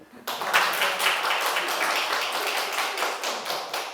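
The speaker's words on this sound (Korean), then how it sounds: "박수 한번" A church congregation bursts into applause after a short gap, the dense clapping loud and sustained with sharp individual claps standing out near the front.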